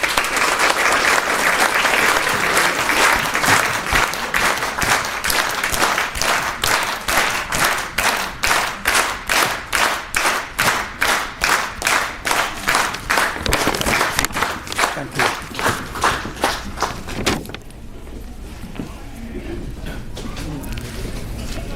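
A lecture audience breaks into loud, sustained applause to welcome Professor Mohammed Hassan, settling into a rhythmic clap in unison before fading out.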